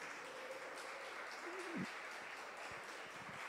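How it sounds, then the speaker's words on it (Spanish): A church congregation applauding the Lord together, a soft, steady wash of clapping that carries on throughout at a moderate, somewhat distant level, with no talk over it. "¿Por qué no le damos un aplauso al Señor?"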